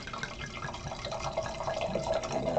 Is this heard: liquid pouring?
yes